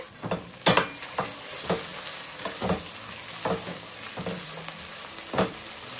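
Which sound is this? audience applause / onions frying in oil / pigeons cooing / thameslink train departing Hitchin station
onions frying in oil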